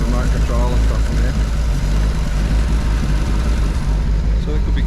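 A Toyota Dyna ramp truck's engine running steadily, a dense low rumble that stays constant and close throughout with no pauses or revving.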